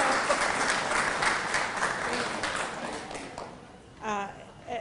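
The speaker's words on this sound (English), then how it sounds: "let's give a warm round of applause again for Eddie Manis" A crowd at a HonorAir officials' and local leaders' event applauds for Eddie Manis, a dense round of clapping that fades after a few seconds, followed by a brief voice.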